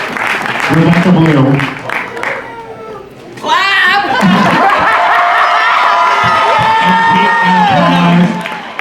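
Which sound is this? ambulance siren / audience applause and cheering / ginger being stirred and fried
audience applause and cheering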